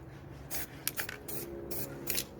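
Aerosol spray paint can hissing in short bursts, several close, bright sprays of varying length with brief pauses between, no talking.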